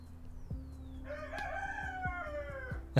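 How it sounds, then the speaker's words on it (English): A rooster crows in the morning in rural Colombia, one long, loud cock-a-doodle-doo close by that rises and holds for about two seconds before fading. "cutting to a rooster in the morning"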